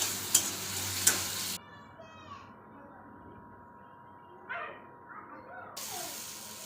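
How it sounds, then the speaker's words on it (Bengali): Bay leaf, garlic, cumin, green chilli and tomato frying in a pan: a loud close sizzle with a couple of sharp clacks, then a quiet stretch of faint muffled sounds, then the sizzle returns. "তেজপাতা, রসুন, জিরে, কাঁচা লঙ্কা, টমেটো দিয়ে ভেজে লবণ হলুদ দিয়ে একটা পেস্ট তৈরি করে নেবো ভালো করে"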